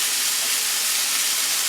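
Pork fried rice sizzling in oil in a non-stick skillet, a steady, close, bright hiss that stays even for the whole short stretch, with no voices.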